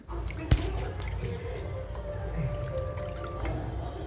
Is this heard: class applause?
no